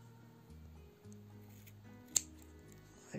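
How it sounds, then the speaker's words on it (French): A single crisp snip of scissors cutting wool yarn close to a chunky knitted hat made from leftover wool, with a brief quiet click standing out against soft background hum. "Et je vais le couper à peu près à ras."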